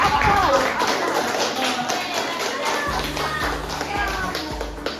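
Elementary school pupils in a sixth-grade class applaud the winning group of a game, a steady wash of clapping with a few low thumps, while a teacher speaks over it.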